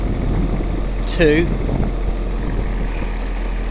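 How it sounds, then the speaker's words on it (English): Iseki tractor engine with a steady low drone, pulling away in first gear on low range while hedge cutting with a Bomford Microklippa, continuous throughout with a brief burst of higher-pitched sound and a few words of speech over it. "Take the handbrake off, we'll go off into first, and away we go."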